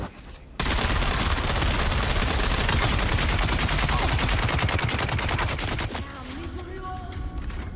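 Disruptor weapon fire in the video game Dune: Awakening: a dense, rapid burst of shots hammering continuously for several seconds, loud and close, then fading into a trailing mechanical whir.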